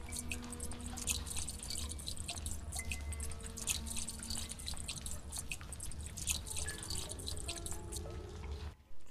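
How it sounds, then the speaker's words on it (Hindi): Oil being poured into a boat in the horror video game Granny Chapter 2, heard as a faint continuous trickle with scattered drips, steady for several seconds before stopping abruptly near the end. "गाइज बोट में ऑयल डालते हैं।"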